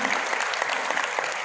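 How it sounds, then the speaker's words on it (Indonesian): A seminar audience claps in a steady, dense patter of hands, fairly quiet and even throughout the short burst. "Boleh saya minta tepuk tangan?"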